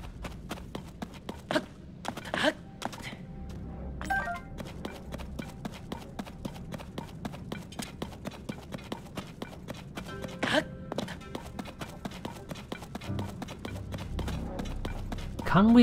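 Hooves of an undead horse in the video game Zelda Tears of the Kingdom clop in a steady walking rhythm with occasional heavier thuds, moderately close, over a low ambient game background.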